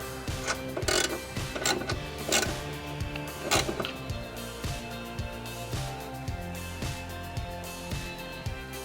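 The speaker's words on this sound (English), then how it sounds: "using a 16mm you can remove the sway bar end link support bracket to the control arm" A 16mm wrench ratchets at the sway bar end link bracket on a BMW E36 3-Series front suspension, producing a steady run of quiet metallic clicks and creaks, with a few louder knocks early on.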